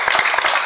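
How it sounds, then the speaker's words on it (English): A church congregation claps their hands in praise, a brief burst of many overlapping claps, close and fairly loud, lasting under a second. "Give the Lord a hand clap of praise."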